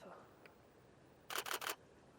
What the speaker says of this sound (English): Literally all there is the sound of my shutter.